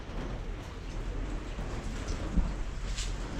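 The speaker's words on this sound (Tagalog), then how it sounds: "tingnan nyo yung panahon, umuulan." Steady light rain hisses softly with a faint low rumble in the background, no voices present.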